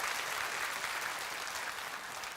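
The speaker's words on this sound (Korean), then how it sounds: "박수로 하나님 앞에 영광을 드려드리겠습니다" A church congregation claps during a Sunday worship service, a sustained, moderately loud burst of applause that fades slightly toward the end.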